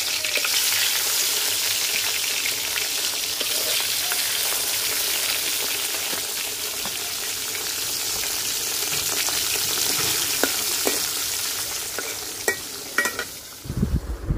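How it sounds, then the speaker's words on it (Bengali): Koi fish sizzle steadily as they are lightly fried in a kadai, a dense, continuous crackle of hot oil that holds for the whole stretch, with a few louder pops and spatters near the end. "বাকি মাছগুলো ভাজা নেব"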